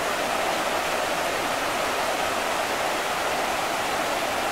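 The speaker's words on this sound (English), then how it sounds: "You can hear the water coming down right there." A waterfall at the Old Mill in Pigeon Forge, Tennessee pours down in a steady, full rushing roar, broad and constant, with no voices over it.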